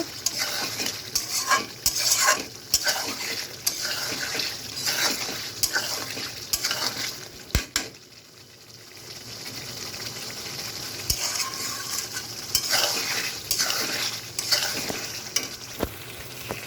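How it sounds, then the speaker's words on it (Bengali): Beef stir-fries in a pan for a bottle gourd curry, with a loud sizzle under repeated spatula scrapes and clanks against the metal. Midway the sizzle briefly softens before the rhythmic stirring picks up again. "আমার মাংস মোটামুটি কষানো শেষের দিকে, তো এটা আমি আরেকটু ভালোভাবে কষিয়ে নিব"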